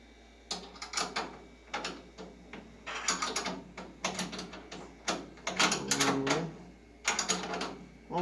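A ratchet tightening a bolt during the build of a battery, AC and fuel box on a 1941 Dodge truck, with close, loud bursts of ratcheting clicks separated by short pauses across the span.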